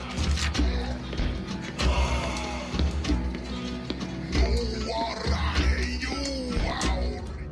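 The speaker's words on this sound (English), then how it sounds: "You listen at the door and hear angry shouting coming within." Angry shouting rings out from behind a door in the video game Warlock of Firetop Mountain, several loud, overlapping yells and bellows repeating over a rumbling, busy background.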